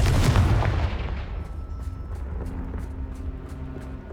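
A Confringo fire-blast spell explodes in Hogwarts Legacy at a poacher camp, a heavy booming burst that rolls off into a fading rumble, followed by faint scattered crackles and ticks.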